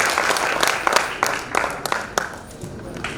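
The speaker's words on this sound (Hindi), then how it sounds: "जोरदार तालियों से स्वागत कीजिए योगेंद्र श्रवण।" Audience applauds at a Hindi poetry gathering (kavi sammelan) for Akhand Bharat Smriti Diwas, loud continuous clapping from a crowd with a few sharper claps, steady throughout.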